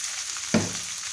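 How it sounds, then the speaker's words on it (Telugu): Cooked rice is tipped and stirred into a pan of fried peanut tempering with curry leaves, with a low steady sizzle broken by one brief scraping thump midway. "రైస్ని వేసుకుని మనం ఒకసారి అటు ఇటు పైకి కిందకి కలుపుకోవాలి"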